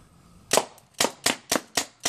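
A paintball gun fires at a wedding dress, five sharp, loud pops in a quick, fairly even rhythm after a short quiet pause, with no talking between shots.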